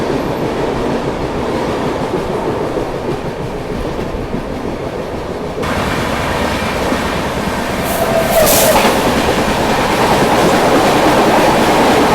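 A passenger train rumbles through Matunga station in Mumbai at speed, wheels clattering steadily over the rails, the noise shifting and swelling midway with a brief high squeal.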